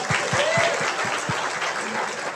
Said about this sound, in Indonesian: Wah, tepuk tangan dulu, tepuk tangan.